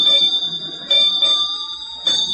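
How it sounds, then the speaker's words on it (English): A ship's bell strikes in repeated clangs at noon aboard a rolling vessel in a heavy sea, bright ringing tones with a sustained high hum, several strikes spaced across the moment. "It was 8 bells, noon"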